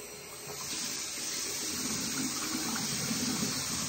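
Steady running water from a tap fills a sink where dirty goalkeeping gloves are being washed, a continuous close rushing hiss with no speech.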